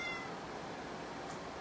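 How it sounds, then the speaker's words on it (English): A single faint cat meow, brief and quiet against a low background hiss, with no one talking. "my cat is safe."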